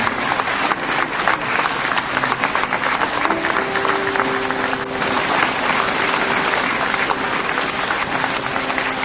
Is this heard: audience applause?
yes